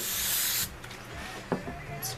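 An aerosol spray can mists a twisted boutique ribbon bow in one steady hiss of about half a second, then a brief second spurt near the end, with quiet handling sounds in between.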